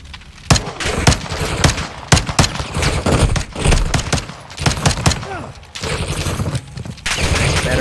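Rapid gunfire in the video game Call of Duty: Modern Warfare II, with sharp bursts of automatic fire and single shots in quick succession, loud and close, while voices talk intermittently between volleys.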